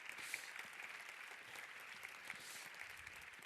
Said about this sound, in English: maybe once more have the biggest round of applause for our Vice President